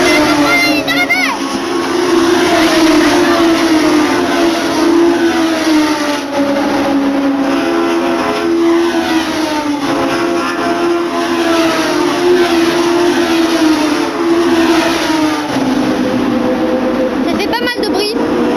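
Race cars overtake one another toward the finish line, their engines making a loud, sustained roar that holds steady for most of the stretch with shifting pitch as they pass.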